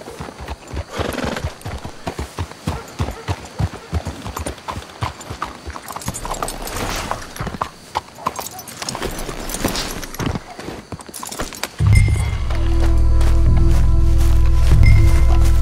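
Horses walk in Red Dead Redemption 2, their hooves clip-clopping in a steady close rhythm, with a whinny and low ambient rumble rising near the end.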